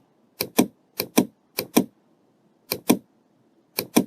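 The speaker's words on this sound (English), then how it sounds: "we press the shift from the keyboard" Computer keyboard keys clack crisply in quick pairs with short pauses, sharp and close, over a faint background hum while shift is held and items are selected in printing software.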